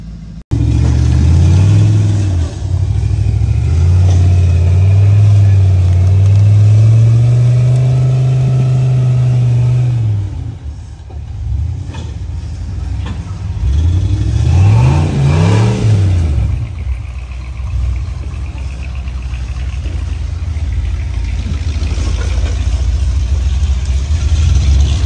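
Rock bouncer off-road buggy engine revving hard while wheeling on a Rushford, Minnesota farm, a loud sustained roar that rises and falls in pitch, dips briefly, then surges again in repeated climbing revs close by.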